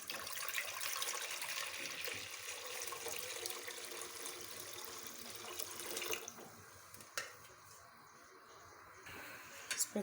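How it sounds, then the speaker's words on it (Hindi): A litre of water pours steadily into a cooking pot on a lit stove to boil spaghetti, a continuous rushing splash for several seconds that thins and tapers off near the end. "स्पेगेटीज़ को बॉईल करने के लिए हम इसमें 1 लीटर पानी ऐड करेंगे।"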